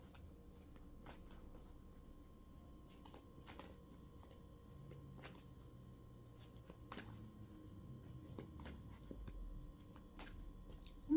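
Tarot cards being shuffled by hand at close range, a soft steady riffling and sliding that runs throughout, with a faint refrigerator hum underneath and no talking.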